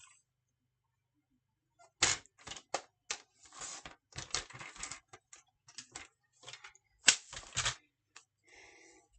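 A paper trimmer slices card stock in close, crisp bursts of sliding and cutting strokes after a quiet start, followed by light rustling of paper.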